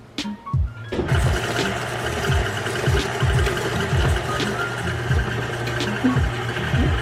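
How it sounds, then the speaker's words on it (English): A KitchenAid stand mixer beats butter and sugar, switching on after a brief clatter and then running as a steady motor whir with a rhythmic churning thump, close and loud, no speech. "So I'm just gonna put this under my KitchenAid and beat it for 4 minutes."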